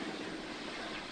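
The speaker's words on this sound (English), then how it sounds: "They got helicopters and everything." Helicopters circling over a heavily guarded area near the White House, heard as a steady, broad rotor-and-engine drone that stays even and fairly faint throughout, with no talk.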